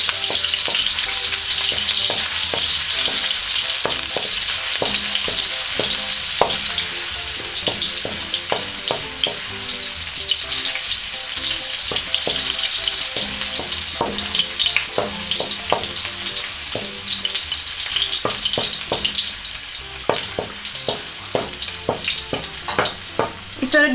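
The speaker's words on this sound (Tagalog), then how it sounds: "Ngayon pong mainit na po yung ating mantika ay pwede na po natin igisa itong ating luya." Ginger sautés in hot oil in a pan, a dense continuous sizzle running throughout with frequent sharp utensil scrapes and clicks against the pan, close and clear with no voices.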